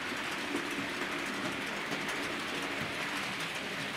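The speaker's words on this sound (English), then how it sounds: "we're going to run this round our engine yard loop, or fiddle yard loop as we sometimes call it, and you're going to see the loco coming into play now." A Bachmann Class 47 diesel model locomotive in EWS livery runs around a fiddle yard loop on a model railway layout, making a continuous even whirring rumble with faint track clatter and no voices.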